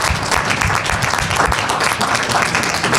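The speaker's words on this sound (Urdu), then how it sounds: "ایک بار بھرپور تالیوں ویلکم کرتے ہیں مسٹر لطیف کھوسہ صاحب" Crowd of listeners applauds to welcome a speaker, Latif Khosa, at a Pakistani gathering before overseas supporters: dense, steady clapping fills the whole stretch at close, even loudness with no break.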